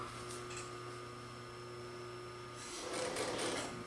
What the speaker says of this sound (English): I'm gonna turn the machine on and start sewing again